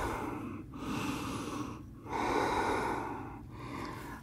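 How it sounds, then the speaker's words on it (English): Slow, deep breaths drawn in and let out during a guided yoga session, three long breath cycles with brief pauses between them, close and steady with no talking. "Breathing in, breathing out."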